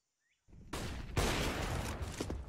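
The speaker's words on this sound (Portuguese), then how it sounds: "Passou no meio de todo mundo o tiro" Gunfire from a Counter-Strike match at a professional esports tournament bursts in after a short silence, a dense, loud volley of shots over about two seconds.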